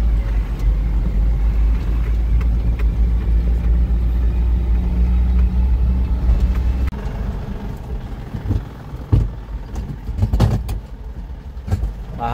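A long vehicle hauling solar panels drives and turns on a steep mountain road, its engine a steady low rumble up close that eases, followed by thumps and knocks.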